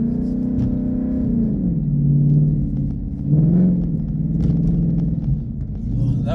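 A 2016 Ford Mustang GT on Blizzak WS90 tires accelerating over ice and snow, a deep steady engine rumble rising and falling in pitch, heard from inside at moderate loudness.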